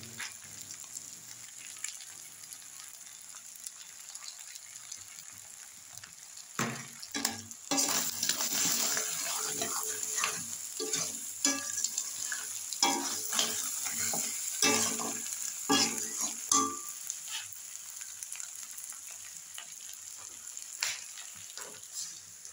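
Crab curry sautéing and being stirred in a hot pan, with a steady sizzle and repeated scraping strokes of a spoon against the pan that pick up and grow busier after a quiet start, and no voices.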